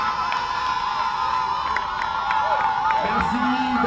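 Stadium crowd cheering and whooping at a women's football championship final trophy presentation in Cotonou, a steady loud roar with shouts throughout and a voice speaking over it near the end.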